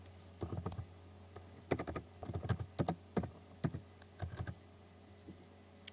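Bursts of quick keystrokes on a computer keyboard, clattering in short irregular runs with brief pauses between, close and fairly quiet.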